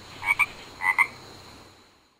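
A frog croaks in two quick double calls, close and clear against a quiet background, with no talking.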